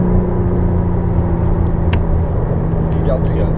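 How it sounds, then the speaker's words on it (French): McLaren Artura engine held on throttle at speed on track, a sustained loud droning hum with steady pitch, and an instructor's voice talking over the car. "Il ne faut pas entendre le régime moteur qui descend, sinon ça veut dire qu'on perd de la vitesse"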